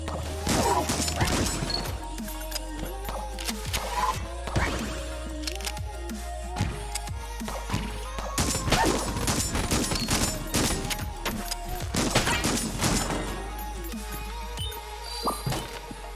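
Trash can launcher firing in the video game Enter the Gungeon, a dense, continuous barrage of crashing, smashing impacts and cracks, loud and steady throughout.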